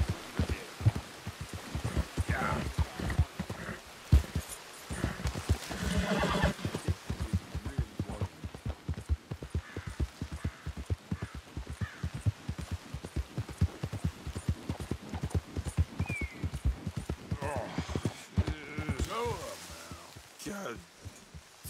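A horse's hooves clop steadily along with snorts and shifting in Red Dead Redemption 2, with a voice talking over the rhythmic footfalls throughout.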